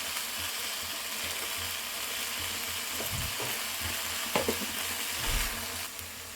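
Tomatoes and green chillies frying in a pan for radish and egg palya, a soft, even sizzle with a few dull stirring knocks near the end and no talking.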